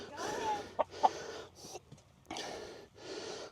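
Several chickens clucking and squawking in short bursts, close by, with a couple of sharp louder calls and brief pauses between.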